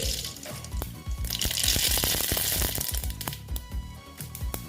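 Whole cumin and mustard seeds sizzle and crackle in hot oil for a besan bhindi dish. Close, busy frying with sharp pops and spits scattered throughout.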